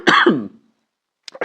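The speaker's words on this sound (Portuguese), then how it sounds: "tô com licença poética para tossir" A man clears his throat and coughs in two harsh, close bursts, then falls silent before a couple of short throaty sounds resume at the end.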